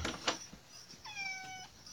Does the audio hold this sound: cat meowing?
yes